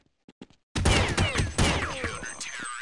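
Sustained automatic gunfire in Counter-Strike on the de_tuscan map, a few quiet shots followed by a loud, dense burst of overlapping rapid fire that rattles on without pause.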